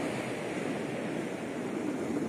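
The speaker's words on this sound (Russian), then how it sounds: "Ну давай еще волна." Waves on a stormy sea on a windy morning wash in a continuous close roar of surf and spray, steady and fairly loud, with no talking.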